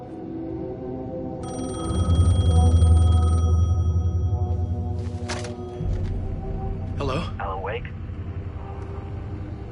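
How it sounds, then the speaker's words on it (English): A telephone rings in the video game Alan Wake 2, a steady electronic trill lasting a couple of seconds over a low ambient drone, with sharper noises following. "The phone was ringing."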